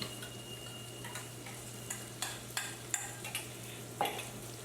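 Tomato paste and vinegar cooking down in a pan, a soft continuous sizzle under a steady low hum, with a series of light scraping clicks from stirring scattered through it.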